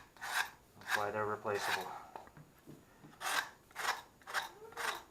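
A drywall knife back-scrapes a drywall patch with repeated rasping strokes, close and fairly loud, while someone talks between and over the scrapes.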